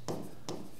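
Two short scratchy strokes of writing out a math question for a lesson, each a brief rasp of pen or marker on a surface, quiet and isolated with no talk.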